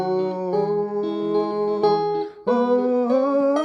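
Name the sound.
guitar playing ooh section of a song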